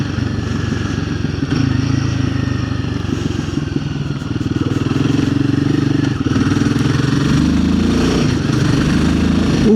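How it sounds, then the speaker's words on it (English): Motorcycle engine while riding, a loud continuous droning rumble close to the mic, with pitch rising and falling as the rider shifts and accelerates. "it's a nice bike to ride, it really is"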